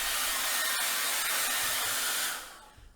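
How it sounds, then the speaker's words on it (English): Hand-held blow dryer drying fresh paint on a night-sky artwork, a loud steady broadband whoosh held close for over two seconds before abruptly cutting off, leaving near silence. "we're going to use a blow dryer again and blow it dry until it's dry to the touch"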